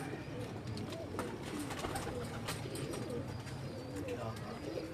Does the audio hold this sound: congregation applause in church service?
no